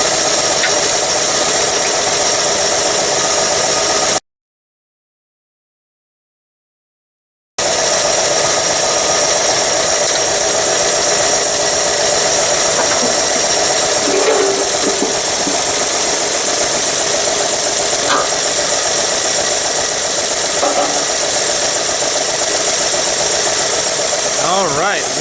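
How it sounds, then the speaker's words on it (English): A Chevy 235 straight-six idles steadily with a fast, light lifter tick running under the engine hum. The sound is close and even, with one brief dropout partway through. "The tick is a little louder than when we started, but not as loud as it was."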